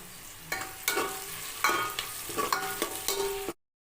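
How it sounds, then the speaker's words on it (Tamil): Onion and garlic sautéed in a pan for a tamarind curry, with repeated scraping stirs of a spatula over a steady sizzle, close and fairly loud, ending abruptly. "இப்போ வந்து பூண்டு சேர்த்துக்கலாம் அதையும் சேர்த்து நல்லா வதக்கிக்கலாம்"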